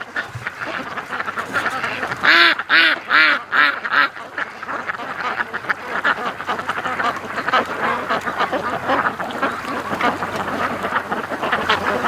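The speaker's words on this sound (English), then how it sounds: "That's all the noise you're hearing right now is the males courting the females." Male ducks on a lake call while courting females, a burst of five loud rhythmic quacks early on, then a dense, continuous chorus of overlapping quacks and chatter from many birds nearby.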